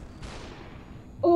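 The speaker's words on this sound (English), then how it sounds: "They're shooting way too fast, even for slow motion!" A single gunshot rings out in the slow-motion shooter game SUPERHOT, a sharp crack with a decaying tail, followed by a brief tonal game sound at the end.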